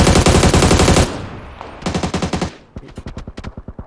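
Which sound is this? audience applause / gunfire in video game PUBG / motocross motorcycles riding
gunfire in video game PUBG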